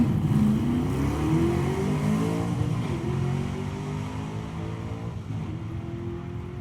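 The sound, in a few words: drag racing car launching and shifting gears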